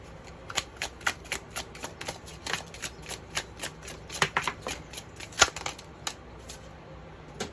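A deck of tarot cards is shuffled close up, riffling in a rapid run of crisp, light snaps with a few louder flicks, and no talk over it.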